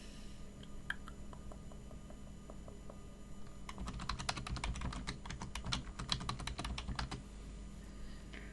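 Someone types a Linux password on a computer keyboard, a sparse few keystrokes at first and then a quicker burst of soft, close clicks over a quiet background hum, with no talk.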